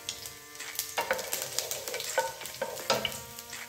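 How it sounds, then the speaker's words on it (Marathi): Garlic pieces fry in about two spoonfuls of hot oil in a pan, giving a soft, close sizzle broken by several light scraping stirs that come and go in short bursts. "आता इथे मी पॅन मध्ये 2 चमचे तेल घेतलेलं आहे। ते ऑलमोस्ट गरम झालेलं आहे। त्याच्यामध्ये मी आता लसणाचे तुकडे टाकलेले आहेत।"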